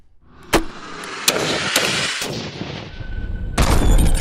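An M203 40mm grenade launcher fires several loud, sharp booms spread over a few seconds, each with a rolling echo across open ground and a heavier blast near the end.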